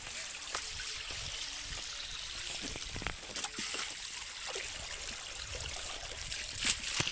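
Water is thrown over a large black buffalo during livestock bathing: quiet trickling and dribbling broken by several short, sharp splashes, fairly faint and close.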